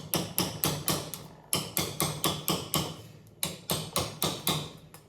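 Repeated metal-on-metal hammer blows on a center punch driving against a rear wheel bearing snap ring on a 2002-2006 Honda CR-V, sharp ringing strikes in quick bursts of about five or six, pausing briefly between groups, close and clear.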